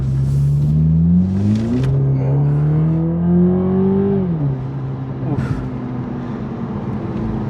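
A Toyota Supra pulls away and accelerates, its engine note climbing steadily and smoothly before easing off. The loud, close drone dominates throughout.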